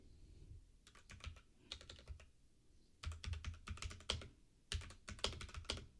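Fast, uneven clatter of keys on a worn computer keyboard with a faulty spacebar, typed in short bursts with brief pauses, close and fairly quiet, no voices.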